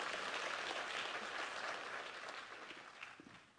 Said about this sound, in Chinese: 让我们再次用热烈的掌声感谢陈安妮给我们带来的精彩的解答